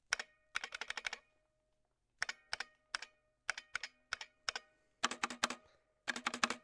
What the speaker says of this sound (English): I will momentarily turn off the fan and the dinosaur so that now, hopefully I can give you an accurate key sound.